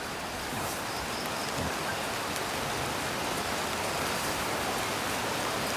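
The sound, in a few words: rain falling on durian plantation after storm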